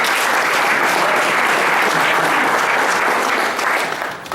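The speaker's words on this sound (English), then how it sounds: "we want to give Alan a big round of applause" A dense, loud wash of audience applause at a club memorial event, sustained and even from start to finish, with a slight easing in the final second.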